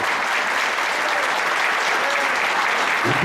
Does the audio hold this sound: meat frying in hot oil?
no